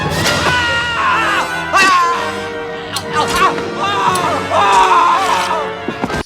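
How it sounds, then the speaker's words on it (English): A man screams while being stabbed in the 1996 horror movie Scream, a loud strained cry with thuds and crashes, then people talk and laugh over it. "This scream that he does when he gets stabbed."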